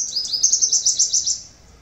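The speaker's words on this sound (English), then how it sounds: "Now here comes male sunbird, dark purple colored shiny little bird." A male sunbird, a small, shiny dark purple bird, calls in a terrace garden: a near, clear run of about eight quick high chirps in steady rhythm, then fading out.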